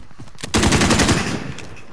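Burst of submachine gun fire in a PS4 shooter, a fast rattling volley of closely spaced shots that kicks in loud and near, then fades within about a second.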